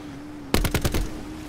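A rapid burst of about five automatic gunshots from an enemy player in Call of Duty Blackout, loud and close, cutting in sharply after a quiet hum and then leaving a faint hum behind.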